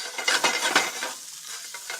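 Shallots cooking in butter in a pan, heard as a soft close sizzle with brief scraping and stirring strokes in the first second, easing into a quieter steady frying hiss.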